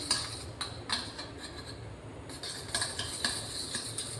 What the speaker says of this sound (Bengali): এটাকে আমি ভালো করে ফেটিয়ে নিচ্ছি।